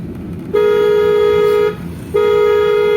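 A car horn blares twice, a long steady honk then a second after a brief pause, loud and close over engine rumble.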